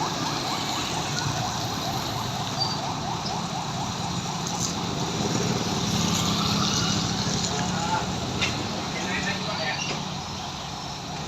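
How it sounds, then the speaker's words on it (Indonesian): A wailing ambulance siren rises and falls over heavy, congested traffic noise in Medan, steady and fairly loud throughout, with busy street sounds around it. "Ambulan."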